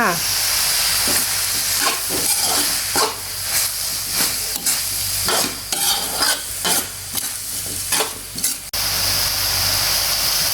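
Fresh shrimp stir-fried with stink beans and shrimp paste in a pan: loud continuous sizzling with repeated rhythmic scraping and tossing strokes, close up, with no voices.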